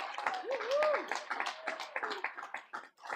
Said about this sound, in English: Can we have one more round of applause for our winners?